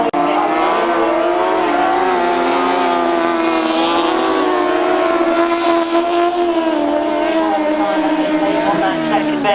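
Grasstrack racing motorcycles and sidecar outfits drone loudly on a dirt track at a 1992 meeting, a continuous layered engine whine rising and falling as they race past.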